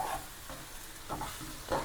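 Salted ingredients for a fish curry being sautéed in a pan, a soft low sizzle broken by a few brief stirring scrapes spaced across the moment, fairly quiet and with no voices.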